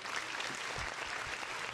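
A short burst of clapping from a small group at a game awards show comes through fairly faint, a brief patter of hands with no talk over it.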